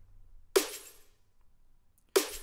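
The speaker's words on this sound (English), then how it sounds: "There's some heavy glass breaking in there, right?" An EDM drop snare built from a heavy glass-breaking sample hits twice, each a sharp bright crash with a ringing echo tail that fades, alone over faint low background.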